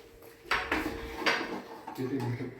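Spoons clink against a plate or bowl a few times as people eat a sweet, short bright metallic taps close by with faint voices in the background.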